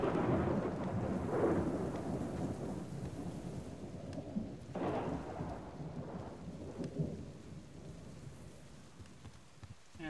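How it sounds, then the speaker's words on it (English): Steady heavy rain in the video game Subsistence, with a dense hiss of drops and a couple of low thunder rumbles rolling through, loud and continuous with no voices. "it's because it's raining"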